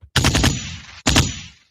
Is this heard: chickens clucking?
no